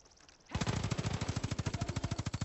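Rapid automatic gunfire from a weapon in a video game rattles out in a fast, evenly spaced burst of about two dozen shots after a quiet opening moment, fairly loud and heard alone.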